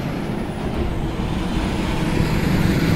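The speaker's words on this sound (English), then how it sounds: "If it ain't an ambulance or something, a helicopter, some trucks moving, it's always something though." Trucks and traffic roll along an East Baltimore street, producing a steady, dense low rumble that swells slightly toward the end, with no one speaking.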